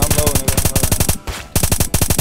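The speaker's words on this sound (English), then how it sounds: "They keep shooting" Automatic gunfire in the video game Apocalypse Rising 2: a loud, rapid burst of evenly spaced shots, a brief pause, then another sharp burst, close and punchy.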